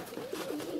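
Soft, throaty cooing from pigeons close by, a few rolling low calls running together with no pauses.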